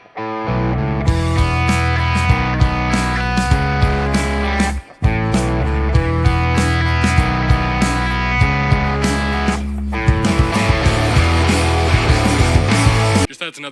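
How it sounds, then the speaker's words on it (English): Distorted electric guitar through a pop punk Line 6 Helix preset with a chorus effect plays loud, thick strummed chords. Two short breaks interrupt the steady playing, and no one talks. "chorus wasn't used overly in a lot of punk pop songs, but it is still definitely present"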